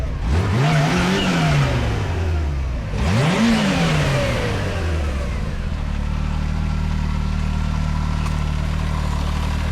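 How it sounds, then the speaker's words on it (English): Kawasaki Teryx5 H2 UTV accelerating hard as its supercharged engine spools up, two rising-and-falling revving sweeps up close, then settling into a steady loud drone. "Can you hear that supercharger? I can hear that spool up."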